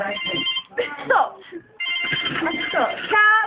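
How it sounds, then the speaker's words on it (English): A telephone rings in a home with repeated electronic ringtone tones, mixed with constant overlapping voices and a brief gap of near quiet midway. "Is your phone ringing?"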